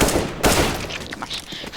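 Gunfire rings out on the Dust II map in CS:GO: loud, close bursts of shots with a sharp crack near the start and half a second in, trailing into scattered rattling and game noise.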